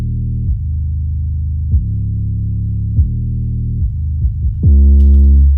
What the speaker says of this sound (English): because the 808 by itself will sound like this.